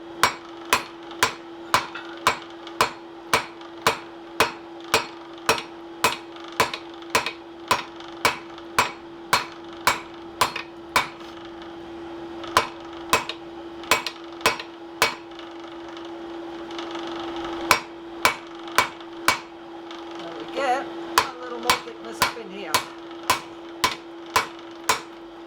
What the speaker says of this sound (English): This one may need a bit more forging. Just to get rid of that divot along that edge.